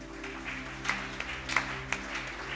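A church congregation applauds: scattered, sparse claps ring out over sustained instrumental tones, moderately quiet and without a dense ovation.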